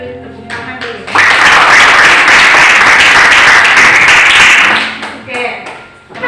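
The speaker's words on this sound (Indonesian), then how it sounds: "Kita beri tepuk tangan dulu." A classroom of students breaks into brisk applause after a brief voice. The clapping holds loud and steady for about four seconds, then fades out, with talk returning at the end.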